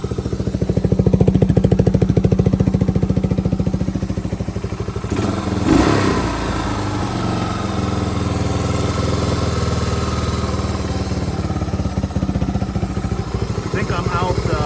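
A 1978 Suzuki DR370 motorcycle engine idles close by with a loud, steady, clattery thump. It gives one sharp rev near the middle and then settles back to an even idle.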